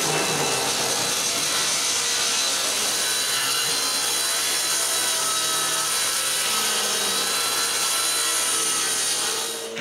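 A saw rips a glued wooden board down to height for a closed bookcase, producing a loud, continuous, steady cutting roar through the whole stretch.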